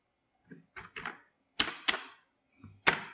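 Code being typed on a computer keyboard as a few sparse, crisp key clacks in small bursts, close and clear against a silent background.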